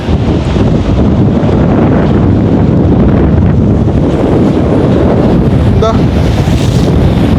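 Storm wind roars across the sea at Point Pedro as waves crash and surge, a loud, continuous broadband rush close to the microphone with a faint voice briefly under it.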